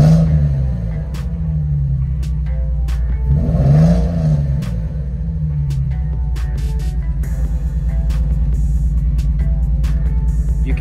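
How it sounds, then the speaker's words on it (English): Nissan 350Z engine revving up from idle, a loud close throbbing rumble that swells and falls in a single burst around the middle, then settles back to a steady uneven idle. "So I'm gonna give it some gas, that way you guys can hear what it sounds like."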